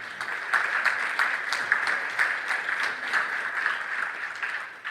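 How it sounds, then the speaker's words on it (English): A crowd applauds steadily, many hands clapping in a dense, continuous wash that holds at an even level throughout. "everyone please give him a round of applause"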